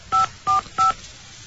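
A telephone keypad sends three short, clear DTMF tones in steady succession as a number is dialed, loud and close with no voices.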